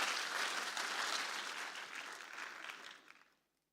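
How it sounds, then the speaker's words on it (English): Applause for the chief at the Safaricom Decode event, a full, steady round of crowd clapping that slowly thins and then dies away into silence at the end. "Let me allow you clap for our chief first."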